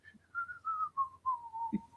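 A thin, wavering whistle from the throat slides gradually downward in pitch through several short breathy pulses, ending with a brief low throaty sound.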